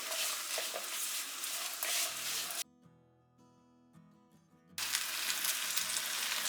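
Sugar and dry fruits stirred in hot ghee in a pan for fruits payasam, a close sizzling hiss with scraping stirs that drops out briefly midway before resuming.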